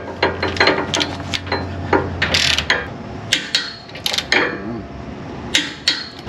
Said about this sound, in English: And we're going to torque it to 100 foot-pounds.